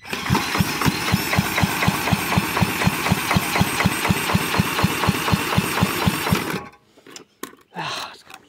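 A Villiers Mark 10 side valve engine is cranked in a failed start attempt, giving a fast, regular chugging pulse for several seconds that cuts off abruptly, followed by a few clunks and a short burst of noise.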